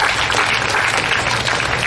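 An audience at a church gathering claps steadily, a dense, loud, continuous burst of applause with no voices over it.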